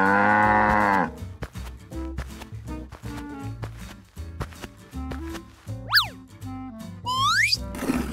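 Cows moo in a cartoonish animated farm scene, long tonal lowing calls over a busy bed of plucky music and bouncy sound effects, including rising boing-like slides near the end.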